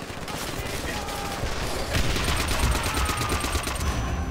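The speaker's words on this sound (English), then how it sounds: "I'm getting shot from everywhere on this one" Heavy gunfire in the Call of Duty: World at War video game, a dense continuous fusillade of overlapping shots that grows louder and more rhythmic partway through, with battle noise all around.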